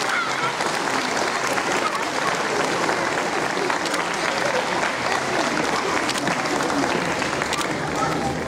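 Steady audience applause at an outdoor public safety concert in Olsztyn, a dense continuous clapping wash from a large crowd lasting throughout, with voices mixed faintly into the noise.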